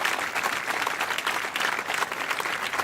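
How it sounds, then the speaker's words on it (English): Applause sound effect: a sustained, even wash of many hands clapping, fairly close and steady for about three seconds with no voices on top. "Give him a round of applause, man."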